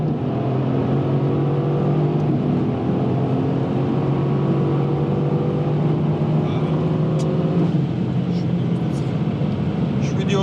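A Mercedes-AMG GT S accelerates hard from a launch in a 0-100 and quarter-mile test, its engine a steady, loud roar with rising tones heard from inside the car and brief talk partway through.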